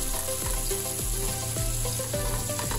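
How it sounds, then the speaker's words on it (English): Butter melts in a large cooking pot over the lowest flame with a constant, close frying sizzle throughout, heard alone without speech. "We want this butter to melt."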